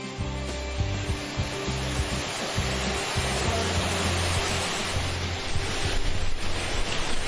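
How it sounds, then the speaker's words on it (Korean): Waterfall pouring over rock at En Gedi, a desert oasis, with a steady broadband rush of falling water and some low tonal rumble underneath, continuous and fairly close with no talking. "저를 이끈 소리의 정체는 시원하게 떨어지는 폭포수"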